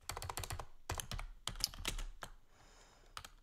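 Password being typed on a computer keyboard: bursts of quick, close key clicks in irregular clusters, with a short pause before a final few taps.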